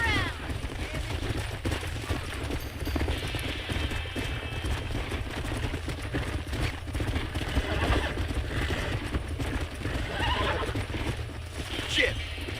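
A horse in the Red Dead Redemption video game whinnies while hooves gallop steadily, with gunfire and voices mixed into a busy, continuous game soundscape.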